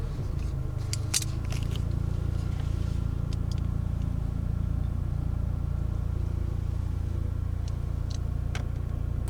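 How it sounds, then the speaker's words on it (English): A 2017-2018 Toyota Highlander Limited AWD engine fires up by push button and settles into a steady, low idle, heard from inside the cabin with a few faint clicks. "With the key fob inside the vehicle, place your foot on the brake, push the start button,"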